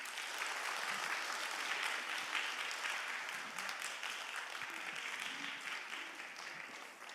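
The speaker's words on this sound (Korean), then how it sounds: "큰 박수로 환영하겠습니다" Church congregation at a lay leaders' retreat applauding to welcome a guest pastor, dense continuous clapping from a large crowd, heard at moderate distance and fading slightly toward the end.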